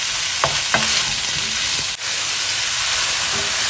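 Roast chicken and vegetable noodles sizzle in a hot pan with a steady loud hiss, broken by a few brief stirring clatters near the start.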